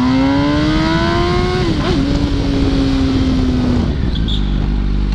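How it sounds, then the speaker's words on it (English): An Audi R8 sports car rolls past in Orlando, Florida, its loud, close engine drone sliding down in pitch as it goes by, with no talk. "With this R8 roll by, I get a nice view of it here."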